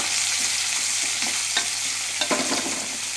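Chopped onions fry in hot oil in a pan on a low-to-medium gas flame, with a steady close sizzle and a few scraping stirs of a spoon breaking through. No one speaks over it.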